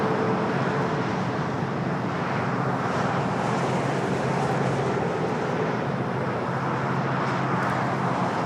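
An Airbus A350-1000 airliner arrives at Los Angeles International Airport, giving a steady, distant jet roar and whine that holds throughout with no voices.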